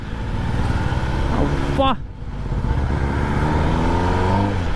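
A Kawasaki ZX-10R superbike fitted with a new exhaust idles loudly, then gives one sharp rising rev that quickly falls away before settling back into a rumbling idle, with a voice speaking nearby.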